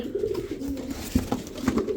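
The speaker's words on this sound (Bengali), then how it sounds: "একটা বুদাপেস্ট সিঙ্গেল নর কবুতর আছে" Pigeons, including a single male Budapest high flyer, coo softly in low repeated phrases, close by, with a few small rustles between calls.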